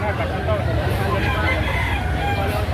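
Roosters crowing and clucking at a busy Saturday chicken market in Lipa City, Batangas, a steady loud chorus of overlapping birds with crowd murmur underneath.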